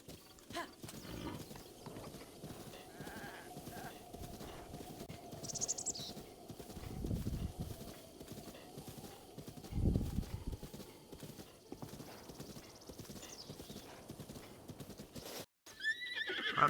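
A horse in a Zelda video game neighs and whinnies while its hooves clip-clop in a steady rhythm, loud and close against a soft ambient backdrop, with occasional bird chirps and a brief dropout near the end.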